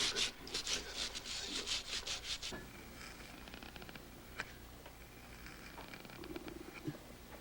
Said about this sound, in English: That's the burning pen